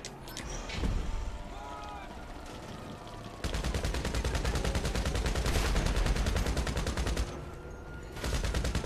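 Rapid automatic gunfire bursts in the video game GTA Online, loud sustained volleys with pauses between them, over game background noise.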